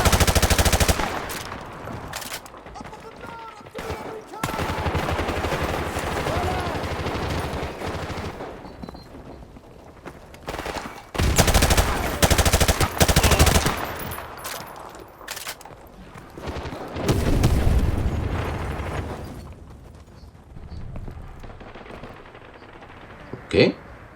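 Machine gun fire in the video game Call of Duty 4, loud sustained bursts of automatic gunfire and explosions with short lulls, mixed with game voices and music.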